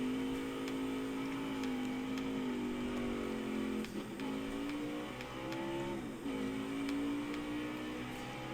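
A race car engine on a warm-up lap holds a loud, steady droning hum close by, the pitch dipping and rising briefly twice as the car shifts and revs, with no talk.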